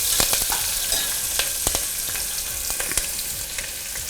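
Thinly sliced onions and green chillies fry in a hot pan, giving a loud, steady sizzle with frequent crackles and quick scraping stirs throughout.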